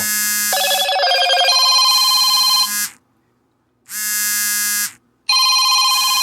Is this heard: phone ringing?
yes